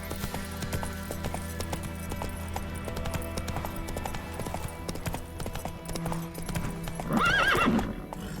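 Horse hooves clip-clop steadily in The Witcher 3 game, a close, continuous trot under ambient noise, ending with a loud whinny near the end.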